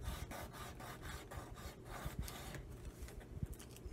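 A fake tattoo sticker is rubbed against skin, a faint, quick back-and-forth rasping in a steady rhythm of about eight strokes, slowing near the end, close up and quiet with no talking.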